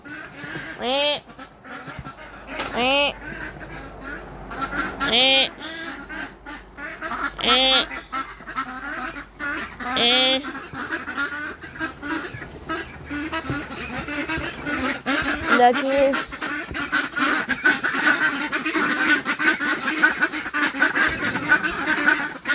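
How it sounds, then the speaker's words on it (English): Several ducks quack in bursts of nasal, repeated calls, fairly close outdoors, with a person talking over them. "Duckies. Duckies."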